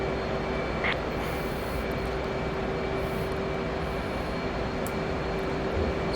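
Steady aircraft engine drone inside a flight simulator game as the landing gear retracts, a continuous loud hum with a faint brief mechanical click near the start.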